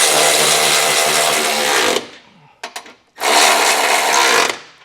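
A power tool tightens trailer hitch bolts on a 2022 Jeep Grand Cherokee WK fitted with a Curt receiver, running in two loud sustained bursts of about two seconds and one and a half seconds, with brief clicks in the gap between them.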